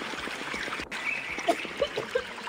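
Water pouring in the Rust survival video game, a steady trickling, streaming wash that runs through the whole stretch, with a few brief splashy bursts near the end and no talk over it.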